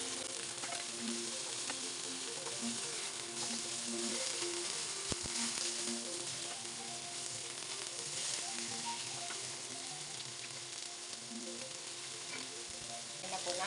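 Onion, garlic and ginger sizzle steadily in a hot pan while being sautéed for tuna adobo with eggplant, a continuous dense frying hiss with faint stirring scrapes and no talk.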